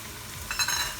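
Garlic hits a pan of browning onions and sizzles, a soft frying hiss that swells partway through and then holds steady, close and moderately loud with no voices.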